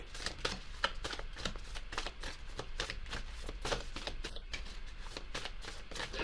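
Affirmation cards shuffled continuously, a dense run of soft papery riffles and flicks at close range with no talking.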